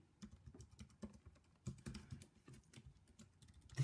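Fingers type on an iMac keyboard during first-time setup of a late 2013 iMac, an irregular run of soft, close clicks and key taps with a few louder presses, no voices.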